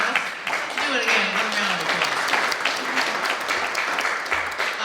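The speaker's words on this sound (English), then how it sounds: "one round of applause" Sustained applause from a crowd at a community energy and climate roundtable, dense clapping filling the room at a steady loud level for several seconds.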